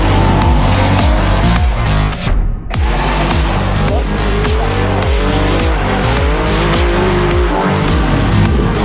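A V8-powered BMW E30 turbo drifts at a Driftland competition event. Its engine roars loudly and close with rhythmic rev pulses, over continuous tire squeal and a brief dip as the car transitions.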